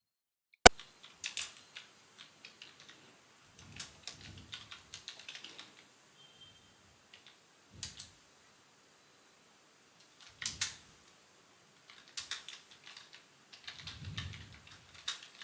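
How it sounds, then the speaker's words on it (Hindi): Someone types on a computer keyboard in quiet bursts of soft clicks and key taps, spread unevenly with short pauses and no voice. "वैसे मैं टाइप करने की कोशिश कर रहा हूँ"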